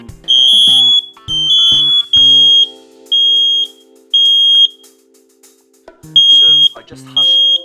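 Loud, piercing electronic home smoke alarm beeps, set off by vape smoke, repeat in a steady pulsing pattern, each burst about half a second long, with brief pauses between them and faint voices underneath.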